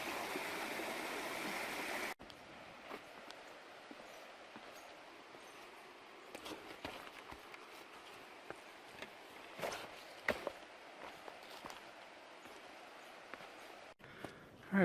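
A river on Vancouver Island's North Coast Trail flows in a steady, soft rush, with scattered footsteps and small knocks over the water. A louder burst of the flow is heard at the very beginning.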